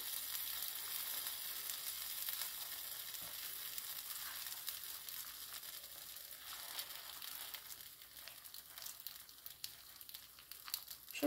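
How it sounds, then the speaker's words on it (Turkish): Spinach and cheese gözleme cooking in oil on a pan gives a constant hissing sizzle, close and steady throughout, with a few light scrapes and crackles mixed in. "Hafif ortasına yağ döküp bakalım birbirine iki iki nasıl sığarsa öyle pişireceğim."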